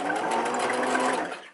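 A sewing machine stitches a wig topper with a fast, steady mechanical whir close by, running continuously for about a second and a half before winding down.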